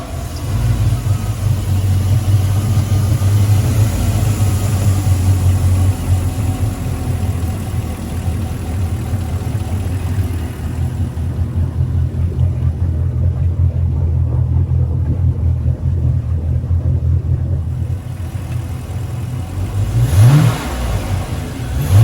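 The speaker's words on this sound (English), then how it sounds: "we'll just give her a quick startup for you so that you can get an understanding of how smooth it is" The engine of a 2007 Regal 2250 boat, out of the water, runs with a steady low rumble and smooth idle, swelling briefly in a rev near the end, close and alone.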